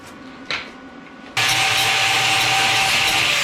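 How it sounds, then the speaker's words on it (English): A power grinder on metal during restoration of a 1970 Cougar, starting abruptly after a light knock and then running as a loud, steady, close whine. "let me grind some of that off and get you a clean start"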